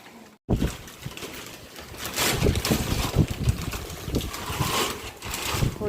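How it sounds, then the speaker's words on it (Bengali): Strong wind blowing outdoors, a steady loud broadband rush with gusts swelling across the whole stretch, close to the microphone and buffeting it. "প্রচন্ড হাওয়া দিচ্ছে"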